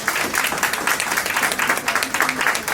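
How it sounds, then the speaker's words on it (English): A room of guests at a law firm's pro bono anniversary event claps for a first-year music student, a dense steady patter of hands with no voices, over in under three seconds. "I think she deserves a round of applause"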